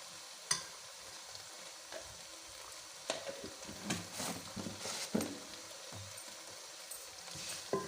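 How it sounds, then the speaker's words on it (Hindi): Grated carrots frying in ghee in a pan for a carrot sweet, with a low steady sizzle and scattered scraping stirs and clinks of the spoon against the pan, close and fairly quiet. "तो यहाँ पे घी मैंने और डाला है और इसको डाल के अब मैं अच्छे से जो गाजरें हैं हमारी इसको भून लूँगी।"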